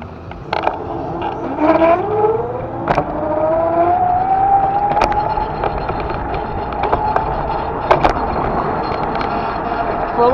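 Road traffic hums steadily, with a vehicle's engine whine climbing in pitch and scattered sharp clicks and knocks throughout.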